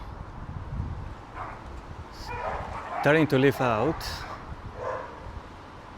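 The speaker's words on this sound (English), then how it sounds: "You probably hear some barking in the background." A dog barks several times in a quick cluster of sharp yaps somewhere in the background while a person speaks over outdoor ambience.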